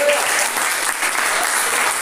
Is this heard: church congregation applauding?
yes